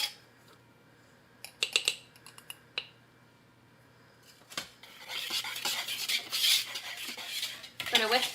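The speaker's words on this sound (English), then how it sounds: "We're going to whisk together our dry ingredients and set this to the side." A whisk clatters against a bowl while flour, baking soda, salt and cinnamon are mixed, giving a few sharp metallic taps, then a longer burst of brisk, scratchy stirring and clinking, close and alone.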